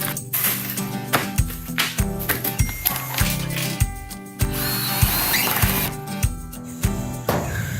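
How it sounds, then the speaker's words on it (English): Power drill driving screws to refasten wind-damaged metal trim on a metal building, loud repeated whirring bursts with short gaps, close and dominant, no talking. "so I'm just going to screw them back in place."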